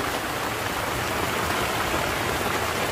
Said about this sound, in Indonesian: Oke, hujan cukup deras.